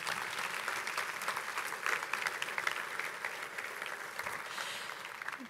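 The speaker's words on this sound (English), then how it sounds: "give yourself a round of applause, please" A large conference keynote audience applauds continuously in a dense, steady wash of many hands clapping, heard alone at moderate distance.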